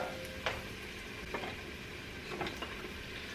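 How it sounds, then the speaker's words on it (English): Beef pieces for an ale stew sizzle and fry in a hot pan, a steady crackling hiss with a few brief scraping stirs, close and fairly quiet. "Just gonna add these in. We'll start sizzling in a moment."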